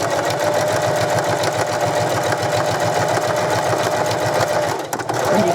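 A sewing machine runs steadily, stitching around the edge of a fabric crayon roll, with a fast, even mechanical rhythm throughout and a brief pause near the end.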